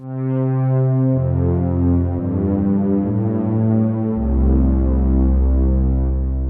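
A sustained, droning instrument tone played from an external MIDI controller in Studio Pro 8, with shifting pitches and deep low notes, steady and loud throughout, with no voices.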